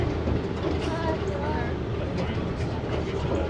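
A small zoo train rolls through an old city park at the San Antonio Zoo, a steady rumble and rattle of the cars running continuously at close range, with people talking over it.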